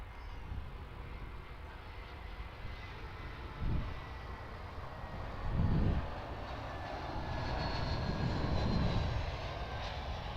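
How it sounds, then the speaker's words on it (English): An Airbus A320 airliner comes in to land at Perth Airport, heard as a faint, distant engine rumble and roar. The sound swells gradually toward the end with a few low thumps, and no one talks. "I'm going to spin around and get this A320 coming in"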